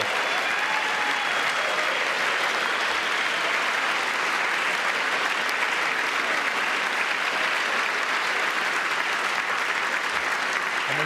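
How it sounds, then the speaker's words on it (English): An audience applauds during a presidential address to Congress, loud sustained clapping filling the whole stretch without pause. "it's embarrassing that they're clapping to this"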